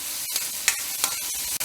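Upma ingredients sauté in a heavy pan, sizzling steadily while a spoon scrapes and stirs in a few quick strokes close up.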